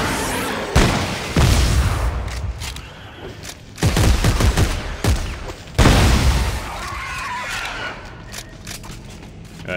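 Shotgun blasts in the sci-fi horror game Dead Space 3, with three or four loud booming shots spaced a couple of seconds apart and a reverberant tail after each one.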